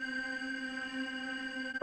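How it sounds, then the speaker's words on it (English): A steady electronic sine tone with rich harmonics hums at an even level, its pitch wavering subtly and irregularly, alone and fairly quiet. "the frequency of the sine wave is modulated with a stochastic function"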